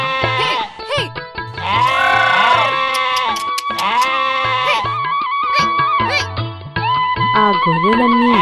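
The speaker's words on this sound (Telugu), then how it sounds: "ఆ గొర్రెలన్నీ మేస్తూ ఉండగా రామన్న ఒకచోట కూర్చున్నాడు" A flock of sheep bleats loudly and almost constantly, with many overlapping wavering cries close by and no talk over them.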